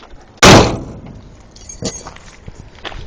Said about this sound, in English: Now listen to this door close.